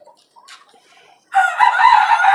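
Desi and tiger chickens on a rooftop farm, faint scattered clucks at first, then a loud, close rooster crow that runs on to the end.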